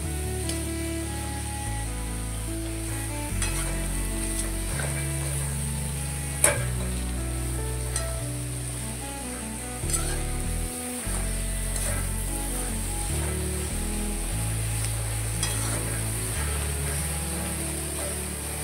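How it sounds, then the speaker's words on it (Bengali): Ridge gourd pieces tossed and stirred in a little oil with turmeric in a pan, giving a steady soft sizzle with scraping stirs, under background music and with no talking. "ঝিঙেগুলো দিয়ে আমি একটুখানি তেলের সঙ্গে পুরো ঝিঙেটাকে মাখিয়ে নেব"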